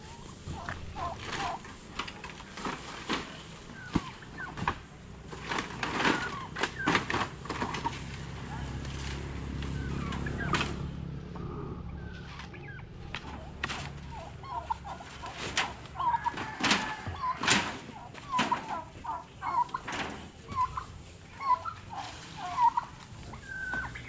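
Turkeys eating leaves, with occasional gobbles and clucks among sharp knocks and rustling, while people talk intermittently nearby.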